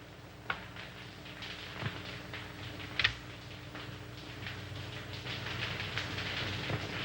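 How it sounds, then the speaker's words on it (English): Steady clickety-clack of a small toy train running on its track, a continuous rattling rhythm with a few sharper clicks, no voices. "the train went around and around and around"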